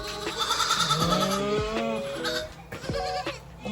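Newborn goats kept warm in an incubating pen on a Canadian farm, bleating in several close, quavering calls one after another with little else around them.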